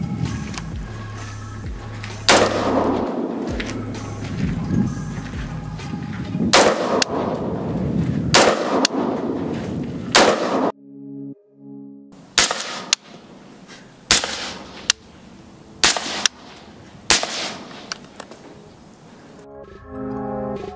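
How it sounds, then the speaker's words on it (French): Real firearms fired one shot at a time, some with suppressors and some without, loud sharp reports spaced a few seconds apart with mechanical clanks of the action between them and one quieter stretch midway. "on a pu tirer donc avec les suppresseurs et sans les suppresseurs, on voit qu'il y a quand même une très grosse différence"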